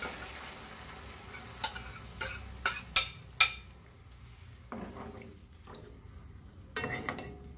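A sinigang-and-adobo fusion mixture with chicken is stirred in a pan, giving a few distinct scraping and clinking strokes of a utensil against the metal over a faint sizzle, followed by quieter shuffling and a soft clatter.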